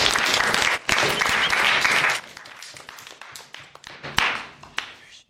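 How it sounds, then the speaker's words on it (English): A crowd at a high school JROTC public speaking event bursts into loud, dense applause that then thins into scattered individual claps and fades out. "Everybody give a round of applause."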